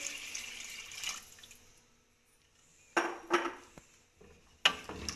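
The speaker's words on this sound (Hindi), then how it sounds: "ये मैंने 3 गिलास पानी लिया है, हम इसमें शामिल करेंगे।" Water from three glasses goes into a pot of browned mutton nihari: a soft pour up front, then a few sharp metallic clinks of the glass or utensil against the pot, close and clear.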